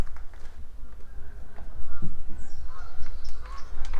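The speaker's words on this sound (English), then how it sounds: "those geese know something's coming. Here they come." Geese honk repeatedly in a loose, overlapping chorus before severe weather, moderately loud over a steady low rumble of outdoor background noise.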